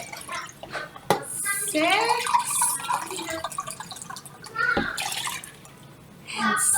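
Water pours into a pitcher while lemonade is being made, a splashing, trickling flow heard under a voice counting aloud, with a few sharp clinks along the way.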